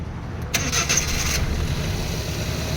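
A Suzuki DA64W with a K6A turbo engine, carrying fault code P0073, cranks briefly and catches, then settles into a steady close idle.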